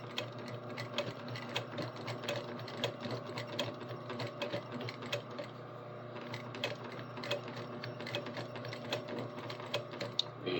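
Rapid, rhythmic clatter of a sewing machine stitching a jeans back pocket corner, running close and continuous with slight pauses and speed changes throughout.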